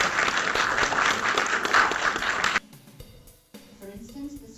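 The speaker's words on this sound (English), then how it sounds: "Round of applause." Audience applause at a screenwriting research conference, a dense steady clatter of many hands for about two and a half seconds, then dropping away to quiet room sound.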